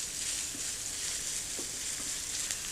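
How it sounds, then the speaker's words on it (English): Mange tout and shredded cooked ham stir-frying in a hot wok for noodles, a steady bright sizzle throughout with a few soft scrapes of stirring. "You want to stir fry that for about another minute."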